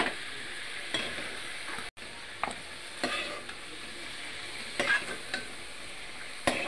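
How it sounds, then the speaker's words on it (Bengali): Paneer fries lightly in a pan for vegetarian butter paneer, a soft steady sizzle broken by a few sharp scrapes and clinks of stirring, with no one talking. "দেখো, হালকা ভেজে নিয়েছি"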